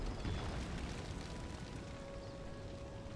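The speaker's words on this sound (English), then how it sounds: "Oh, that's their cannons." In a Total War: Empire battle, cannons fire at a fort: a low, distant rumble of explosive booms, strongest at the start, then fading into a steady, muffled battlefield roar.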